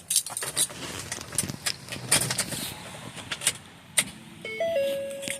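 Keys jangling in short metallic bursts as a key goes into the ignition of a Ford Escape with a no-start issue, close and intermittent, followed by a faint electronic chime near the end.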